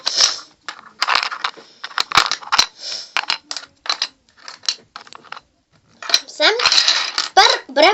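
Small construction pieces are being laid out and handled, sorted in batches of twelve, making dense, rapid clicking and clattering against a hard surface in quick bursts with brief pauses, close and fairly loud.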